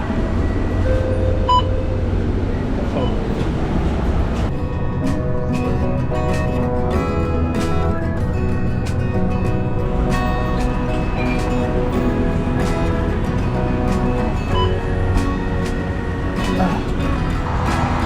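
A train crossing the bridge from Singapore into Malaysia rumbles steadily throughout, with repeated clacks and metallic clicks over a continuous low drone, heard from inside the carriage.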